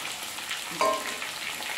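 Carrot, potato and tomato cooking in oil, giving a continuous close sizzle with a brief spoon clink partway through.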